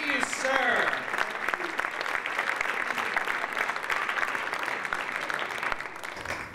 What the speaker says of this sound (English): You're all applauding just because it wasn't you.